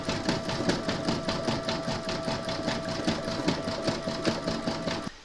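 An embroidery machine stitches a red section of a large parrot applique, a rhythmic, even mechanical thumping and whirring that carries on steadily at close range, then cuts off near the end.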